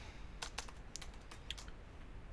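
Keystrokes on a computer keyboard while entering text in a Python Tkinter entry widget, a handful of quick, light clicks spread unevenly over a steady low background hum.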